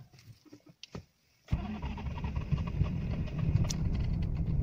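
A Toyota Mark II engine, battery charged but refusing to fire, cranks on the starter after a quiet pause, whirring steadily and continuously up close without catching.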